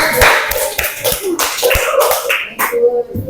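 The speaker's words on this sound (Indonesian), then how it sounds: "kasih tepuk tangan kelompok 3 dan 4" Classroom of students clapping for groups 3 and 4, a burst of close, uneven handclaps with sharp individual taps, fading out near the end.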